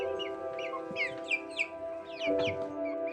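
Commercial chickens in a small replica of an intensive farm cluck and chatter close by, with several overlapping soft calls and squawks over a steady hum.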